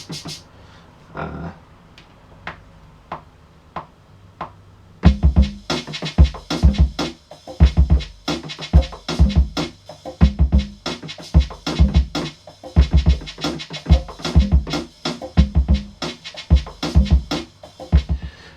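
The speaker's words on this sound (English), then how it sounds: "I took the original shaker but also reversed the same sound to, it sounds more like it's properly shaking" In a hip hop beat, a shaker sample is layered with a reversed copy of itself, giving quick swishing hits that tick softly at first and then lock into a busy, punchy rhythmic groove.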